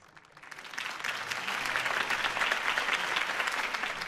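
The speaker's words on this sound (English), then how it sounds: "If only Mr. Wayne, my campaign's largest backer, could have heard that applause" A crowd breaks into applause in the Batman Telltale video game, swelling from quiet within the first second into sustained, dense clapping that holds steady.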